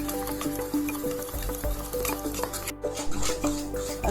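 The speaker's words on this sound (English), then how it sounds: "so nicely whisk it" Cake batter whisked by hand in a bowl: steady, repetitive scraping and tapping strokes with a soft wet squish, fairly close and continuous.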